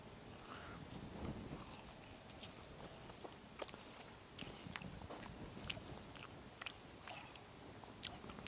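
Someone chews spicy smoked barbecue ribs coated in sauce and dry rub, close to the mic: soft, irregular bites and wet mastication sounds with scattered sharp clicks, quiet and without speech.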